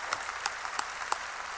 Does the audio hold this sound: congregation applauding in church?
yes